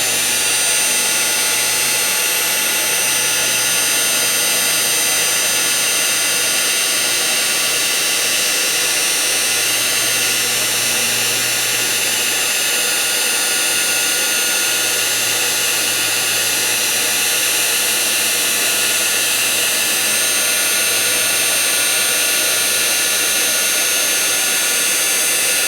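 A heat tool blows steadily on a domed craft card held down with a tool, a continuous loud whooshing roar of fan and hot air running unbroken throughout with no talking.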